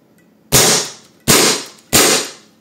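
Three sharp, loud pops ring out about a second apart as a Gunsmith GS50 defense pistol is fired into empty air, each crack close and decaying quickly.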